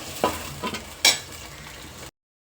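A ground peanut and spice mix roasting in a pan, stirred with a few scraping and clinking strokes over a soft frying hiss, close and fairly quiet before cutting out.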